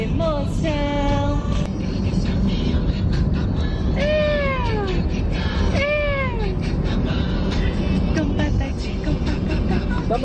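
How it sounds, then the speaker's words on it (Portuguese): Cat meowing loudly and repeatedly, several drawn-out, falling meows spaced a couple of seconds apart over a constant rumbling vehicle noise, with some voices in the background. "Gatinho lindo!"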